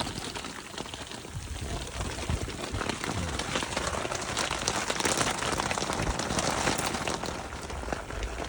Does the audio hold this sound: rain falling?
yes